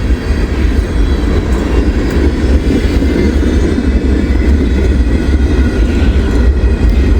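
A CSX freight train rolls past in snowy conditions, a loud, steady low rumble of wheels and railcars filling the whole stretch without letup.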